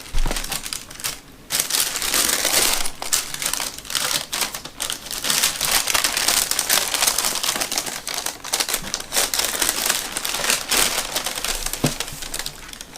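Tissue paper from a Nike Chicago Jordan 3 Unite shoe box crinkling and rustling close up in rapid, dense bursts with brief pauses, loud and continuous.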